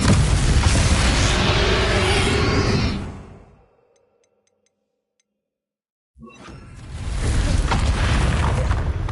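Confringo spell explosion in the Hogwarts video game: a loud roaring boom that fades into near silence, followed by another heavy blast rushing back in.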